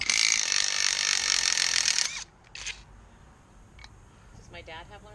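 An impact wrench works the front hub of a 1997 Nissan Pathfinder, a loud whirring hammering burst lasting about two seconds, then faint clicks and a voice nearby.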